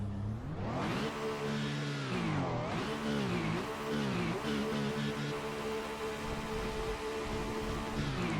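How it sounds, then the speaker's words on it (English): An Alpine race car engine in a racing video game revs up and down several times, with rising and falling harmonic whines, then settles into a steady high drone. "let's do, as we always do, a little engine sound check"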